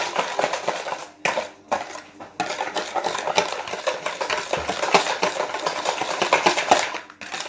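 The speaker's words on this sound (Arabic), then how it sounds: "غادي نخلط المكونات مزيان" Cake batter made with whole wheat flour is stirred briskly in a bowl, giving repeated scraping and clinking strokes with short pauses between bursts.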